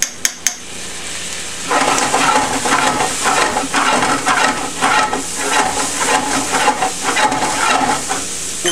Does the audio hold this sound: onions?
yes